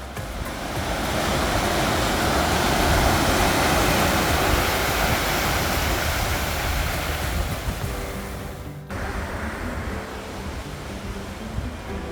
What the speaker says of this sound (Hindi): वहां सिर्फ समंदर का शोर था